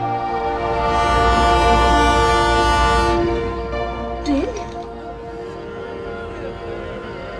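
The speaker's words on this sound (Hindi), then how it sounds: "ये ट्रेन पास आ रही है" A train horn blares loud and sustained as a train approaches in a horror show scene, fading after a few seconds into rolling rail rumble and a brief screech over dark background drone.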